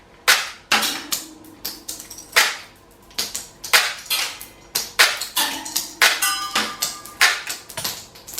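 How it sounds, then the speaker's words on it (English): A cheap airsoft pistol bought from Temu is fired repeatedly, giving about sixteen sharp snapping cracks at a steady, uneven pace, each clear and close, with no one talking. "Okay, let's take some shots."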